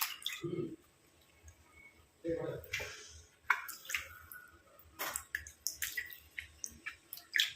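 Water splashes and drips in short bursts, with wet squishy rubbing sounds and occasional pauses, close by and fairly quiet.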